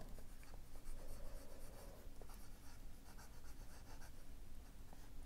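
A broad-nib fountain pen scratches steadily across paper, a soft continuous faint writing sound alone with no talking.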